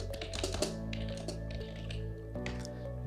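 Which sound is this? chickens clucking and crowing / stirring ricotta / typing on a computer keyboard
typing on a computer keyboard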